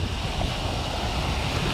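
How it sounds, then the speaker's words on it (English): Adriatic Sea waves at Sottomarina near the Venetian Lagoon, a steady broadband wash of surf mixed with wind rumble on the microphone, continuous and fairly close, with no voices. "See the waves?"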